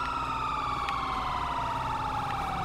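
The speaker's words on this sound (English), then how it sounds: "If we can get lights and sirens, we can get a siren check on all LEO cars." A police siren in GTA V FiveM roleplay wails steadily with a gliding, falling tone, continuous and fairly prominent over low engine rumble, with no talking.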